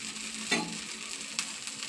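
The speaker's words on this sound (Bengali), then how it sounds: "দেখো এইভাবে আমি সবগুলো ভেজে নিচ্ছি" Rice flour pancakes (saru chakli) frying on a pan, a steady soft sizzle with two brief scraping or stirring clicks, close and alone with no talk.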